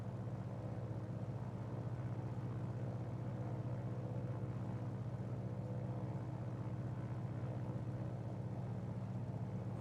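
A light propeller aircraft cruises on a flight in Ireland, its piston engine droning steadily at around 2,500 RPM, even and unchanging for the whole stretch, fairly quiet, with no voices.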